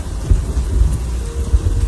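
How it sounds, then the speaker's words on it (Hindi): Heavy cartoon rain pours steadily in cold weather by a riverside, with deep low thunder rumbling continuously beneath the dense hiss of falling water, loud and close throughout. "एक तो इतनी ठंडी और ऊपर से यह तेज बारिश।"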